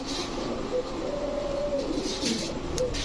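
A male pigeon coos softly with a low, rolling call over steady background noise, a few short phrases in a row.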